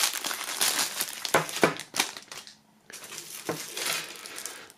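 Paper packaging around a necklace is torn and crumpled open during a box unboxing, a close run of crinkling, ripping bursts with a brief pause in the middle and no speech.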